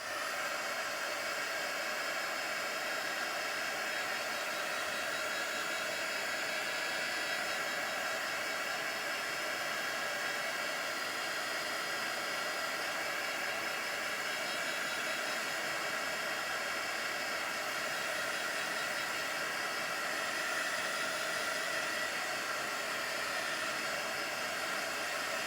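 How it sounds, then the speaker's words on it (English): Heat gun blowing hot air in a continuous, even, fairly quiet hiss that holds steady throughout, no voices. "Hit that with the heat gun real quick."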